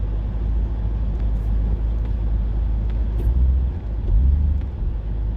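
Pontiac GTO engine pulling out of second gear, a low steady rumble heard from inside the car with slight swells as throttle changes.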